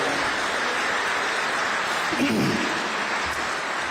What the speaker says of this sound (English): Can I get a small round of applause for that?